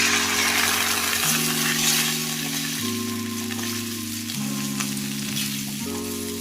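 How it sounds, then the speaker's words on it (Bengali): Taro and potato masala frying loudly in a pan as water goes in, a steady dense sizzle and hiss with a sustained low hum under it, close and even throughout with no talk. "এবার আমি এতে জল অ্যাড করব"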